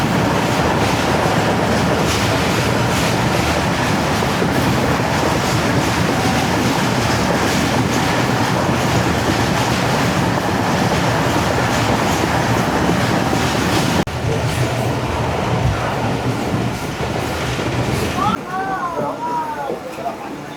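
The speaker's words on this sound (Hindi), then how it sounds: "ट्रेन हमारी पहुंच गई है अंगशाही स्टेशन और यहाँ बहुत ही स्लो स्पीड में पास शुरू हो रहा है" A Pak Business Express passenger train rolls slowly through a station in Pakistan, with a steady loud rumble and clattering of wheels on rail joints throughout, easing slightly toward the end, with a brief squeal near the close.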